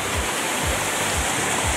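A waterfall in the Victoria High Country pours in a loud, steady, close rush of broadband water noise with no pause and no voices.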